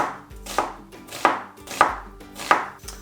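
An onion is sliced into long strips on a cutting board with a kitchen knife, four distinct chopping thuds spaced evenly about two-thirds of a second apart, close and clear with no talking.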